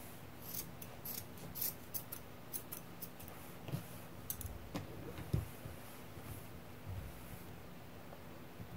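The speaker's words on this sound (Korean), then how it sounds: "안에 솜 빼서 잘라줍니다" Scissors snip cotton stuffing pulled from a chunky hand-knitted bag, making a series of short, crisp, close cuts at an irregular rhythm against a quiet background.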